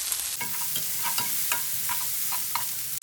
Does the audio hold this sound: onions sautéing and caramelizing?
yes